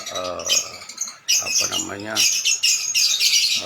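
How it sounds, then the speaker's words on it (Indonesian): Birds squawk and chirp loudly and close by in the morning, their busy calls overlapping with a person speaking. "vibrasi burung pagi ini. Mereka pun berkicau."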